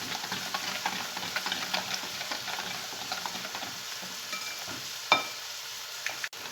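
A spoon stirs a cake batter with coconut in a bowl, a soft, steady wet scraping and slapping at close range, ending with a sharper knock.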